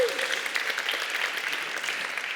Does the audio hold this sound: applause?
yes